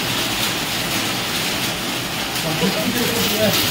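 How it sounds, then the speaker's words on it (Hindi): Heavy rain pours down in a steady, dense hiss that fills the whole clip, with a faint voice underneath. "बहुत बड़ा वर्षा होची"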